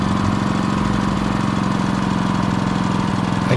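An engine idles steadily at about 1250 RPM in the Escape Memoirs game, a close, even, low mechanical chugging drone with a rapid regular pulse that holds unchanged from start to finish without any voices.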